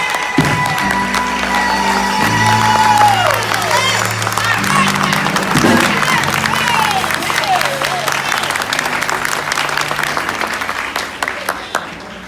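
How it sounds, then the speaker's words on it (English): Loud, sustained applause from a large church congregation, with cheers and whoops over the clapping and organ chords playing underneath, continuing for several seconds. "Give her a big round of applause."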